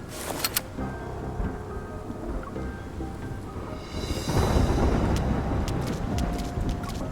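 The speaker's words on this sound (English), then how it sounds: "It's just the rain." Heavy video-game rain pours steadily as a deep rumble of thunder swells midway, with a few sharp clicks and knocks scattered over the downpour.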